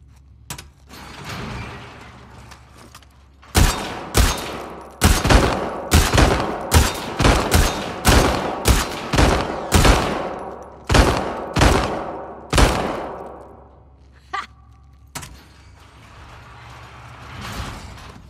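Target-practice shooting in The Last of Us Part II: a steady string of about a dozen loud, evenly spaced gunshots emptying a full magazine, trailing off into a couple of softer clicks and handling sounds.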